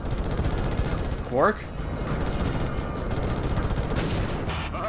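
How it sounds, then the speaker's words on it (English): Bursts of gunfire and explosions as mines are shot in the Ratchet and Clank video game, a dense, continuous barrage of blasts with a brief rising electronic whine, loud and close, with a short spoken word over it. "if you'd stop shooting mines at me, we can do that."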